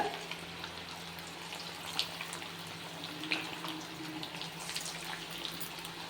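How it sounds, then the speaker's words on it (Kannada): Chicken pieces for chilli chicken fry in hot oil over a medium flame, a steady moderate sizzle with scattered pops and occasional spatters close by. "ಇವಾಗಿದು ಮೀಡಿಯಮ್ ಉರಿಯಲ್ಲಿ ಇದನ್ನು ಫ್ರೈ ಮಾಡ್ಕೊಳ್ಳೋಣ."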